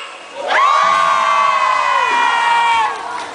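A concert crowd at a mini-concert roars and cheers with a long, rising high-pitched shout, loud and close, swelling then easing off over a few seconds.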